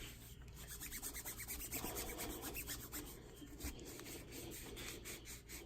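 Steady back-and-forth rubbing and scraping as old glue is worked off a 2015 Suzuki GSX-R motorcycle handlebar before new hand grips go on, close and continuous with a rhythmic rasping texture and no talking.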